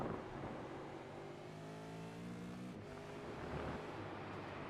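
V8 Supercar race car engine in a racing video game at Fuji: a steady high engine drone with rising and falling gear-change tones, a brief dip midway, fairly faint and continuous.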